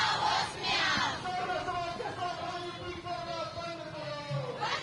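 A large procession of protesting men and women over a flyover construction dispute, heard as a loud, dense crowd roar with chanted slogans and raised voices that carries on steadily throughout.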